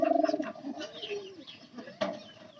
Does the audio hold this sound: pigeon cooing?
yes